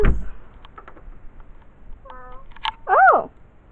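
A cat meows once near the end, a clear rising-and-falling cry following a few soft clicks and a short tonal squeak, with a brief bit of talk at the start.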